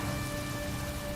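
Steady rain falls, apparently heard while driving, a dense continuous hiss with a faint tonal hum beneath it.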